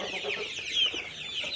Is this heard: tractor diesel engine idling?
no